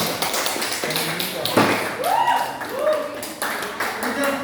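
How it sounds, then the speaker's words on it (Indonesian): Students in a classroom applaud a presenting group, a quick burst of scattered, light claps and taps, mixed with chatter and voices close by. "Oke, kita kasih aplaus dulu buat kelompok 1."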